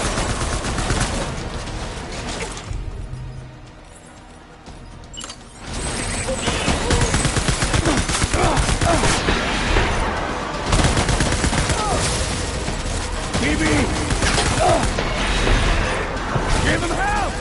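Video game gunfire: dense, loud bursts of automatic weapons and rapid shots, nearly continuous apart from a brief lull, with shouting voices mixed among the fire.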